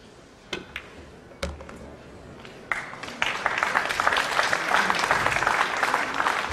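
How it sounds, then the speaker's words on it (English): A few scattered, isolated claps at a nine-ball pool match grow into fuller audience applause that builds and continues strongly to the end. "grudging applause there because these..."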